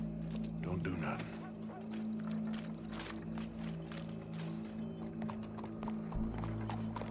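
Horse hooves clip-clop in a steady walking rhythm in the Red Dead Redemption 2 video game, set against a continuous low ambient drone with faint voices in the background.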